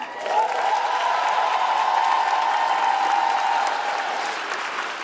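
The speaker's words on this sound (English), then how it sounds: "Please join me with a round of applause of our esteemed former mayors who have joined us today" A crowd applauds former mayors at an airport centennial kickoff celebration, with steady, dense clapping sustained for about five seconds and no talk over it.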